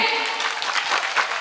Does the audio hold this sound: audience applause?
yes